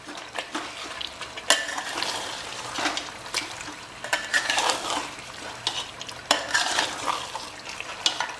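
Mutton for a Patiala-style korma being roasted and stirred in a pan, with a spoon scraping and clinking against the metal in irregular bursts over a soft, steady sizzle.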